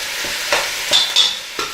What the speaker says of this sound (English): All I've been doing is mixing it up and letting it brown.